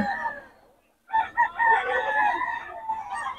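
Roosters for sale at a Bocaue poultry market crow one after another, a fading call at the start, a brief gap, then a loud overlapping chorus.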